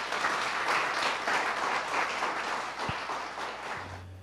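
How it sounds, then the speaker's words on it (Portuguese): A congregation applauds in church, dense sustained clapping from many hands that fills the space and gradually thins out toward the end. "Dê uma salva de palmas ao Senhor"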